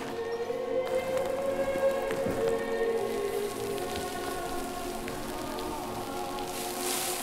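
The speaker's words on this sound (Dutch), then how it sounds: "want het regent een beetje." Light rain pattering steadily on surfaces outdoors on a trip to the Ardennes, soft continuous drops at a fairly low level with some faint tonal background hum.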